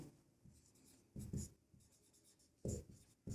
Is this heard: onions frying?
no